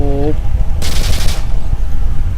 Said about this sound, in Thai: ปืนรัว